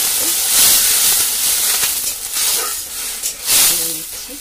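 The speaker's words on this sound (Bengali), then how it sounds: "একটু তেলে ভেজে নিচ্ছি, পেঁয়াজও দিই।" Food fries in oil on a stove, giving a loud, steady hiss and sizzle with crackling bursts throughout.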